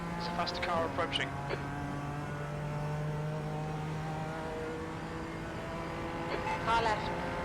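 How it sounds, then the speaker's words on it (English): A faster race car closes in and passes on the track at Road Atlanta in an iRacing sports car race. There is a steady engine drone with rising revving whines, and someone talks over it. "There's a faster car approaching."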